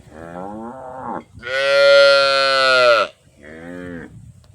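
Cow mooing loudly and close in a long, strained bellow, framed by shorter lowing calls before and after.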